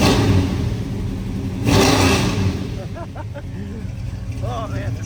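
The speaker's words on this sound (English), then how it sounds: "And let's give it a couple revs." A 1972 Chevrolet Nova with a 454 big-block V8 and TH350 automatic revs up in a couple of loud, rising bursts over a steady idle, close by, with speech-like sounds mixed in.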